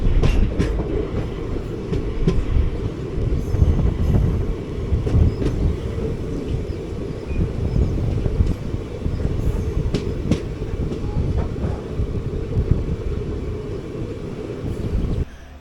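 Amritha Express passenger train from Palakkad to Madurai rolling along steadily, heard from inside a sleeper class coach: a continuous loud low rumble with faint wheel clatter over the rails and no talking.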